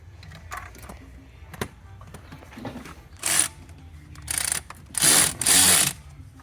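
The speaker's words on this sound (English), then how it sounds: "Just tighten all the bolts." On a 1999 BMW 528i, a ratchet tightens the intake manifold bolts. Faint clicks come first, then several loud, close bursts of rapid pawl clicking grow longer toward the end.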